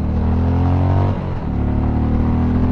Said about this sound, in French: Le moteur n'hésite pas à aller chercher les régimes